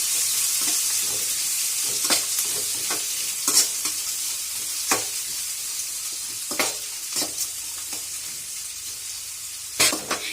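Chopped onions and green chillies fry in a pan with a steady broadband sizzle, punctuated by sharp scraping strokes of a spatula every second or so, close and fairly loud with no voices.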